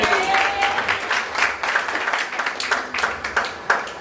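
Congregation applause at a church anniversary celebration: many people clapping in a lively, uneven patter with a few louder claps standing out, and faint voices under the hands.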